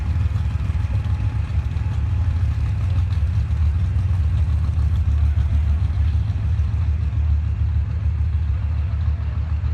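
Race car engines roar steadily at a race track during Friday qualifying at the 2017 SCSDA season opener, a loud, continuous low rumble with rising revs and clatter and no voices.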